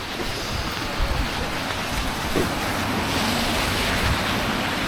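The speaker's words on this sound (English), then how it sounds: "This river going past the Gillside Farm." River at Gillside Farm in the Lake District fells, a steady broadband rush of flowing water, loud and continuous with wind buffeting the microphone.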